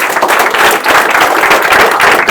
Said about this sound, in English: All right, give him a round of applause.